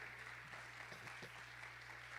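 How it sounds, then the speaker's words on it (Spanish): Faint applause from a church congregation, a soft, steady wash of clapping heard from a distance under a low hum, with no voices. "Pues dale un fuerte aplauso a nuestro Dios por eso,"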